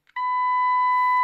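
Steady pure test tone from a signal generator played through a CB radio speaker, starting after a couple of faint clicks and holding loud and unbroken to the end.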